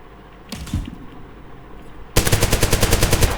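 Automatic gunfire in the Zero Hour video game, a few scattered shots and then a fast, loud, evenly spaced burst of rapid-fire rounds.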